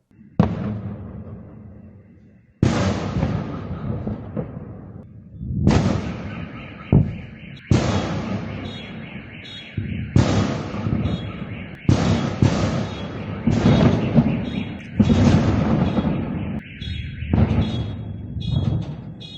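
Explosions and gunfire over Kerch in Crimea during an attack: a string of loud, sharp blasts and bursts that each start suddenly and fade into a long rumbling echo, coming one after another at irregular gaps.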